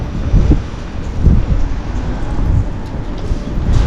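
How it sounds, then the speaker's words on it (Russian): Gusty wind buffets the microphone with a low, rumbling roar in the Frankfurt am Main streets, rising and falling in loud blasts throughout. "Он даже не похолодал, ветер появился."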